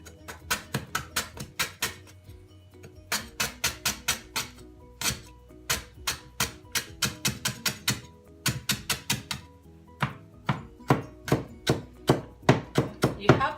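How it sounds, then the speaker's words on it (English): A knife chops duck meat for larb in quick, rhythmic bursts of crisp board hits, with short pauses between runs, close and clear and with no talking. "Gonna cut inside the meat."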